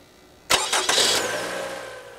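A car engine cranks and catches as the ignition is turned, a sharp burst followed by a couple of quick surges, then settles into a steady, fading idle, close by with no talking.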